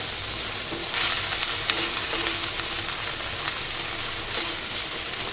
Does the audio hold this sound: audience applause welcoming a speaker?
no